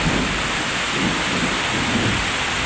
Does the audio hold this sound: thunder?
yes